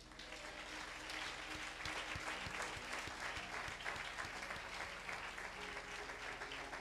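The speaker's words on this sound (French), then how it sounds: "L'Église peut acclamer le Seigneur." A church congregation applauds at a Sunday Easter service, a steady dense wash of many hands clapping at moderate distance that continues evenly without voices over it.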